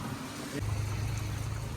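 A car's engine runs low and steady as it is parked at the Jotiba temple area near Kolhapur, a soft, close rumble with no talking.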